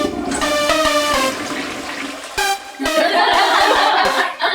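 A loud toilet flush with rushing, gurgling water, interrupted by a brief break before the swirl resumes and drains.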